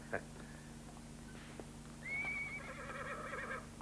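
A horse neighs in a 1966 Turkmen film scene, a clear, drawn-out whinny with a rising then wavering tone, heard against a steady background hum after a brief earlier sound.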